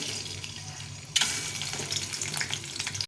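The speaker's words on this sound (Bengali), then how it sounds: "এই ডিমটাকে একটু নুন হলুদ দিয়ে ভেজে নেব অল্প করে।" An egg frying in hot oil with salt and turmeric, a low, steady sizzle that suddenly grows into a louder, brighter crackling spatter and keeps up until it cuts off abruptly.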